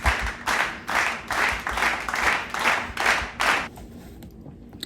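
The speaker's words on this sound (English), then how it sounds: "So like, round of applause for that." Seven or eight evenly spaced hand claps from a single person, close and fairly loud, ring out in a steady rhythm and then stop. The claps celebrate a finished embroidered flower in a quiet room.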